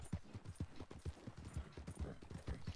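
Horse hooves clip-clop steadily in a video game, a fast, even rhythm of soft thuds at moderate volume with faint background ambience.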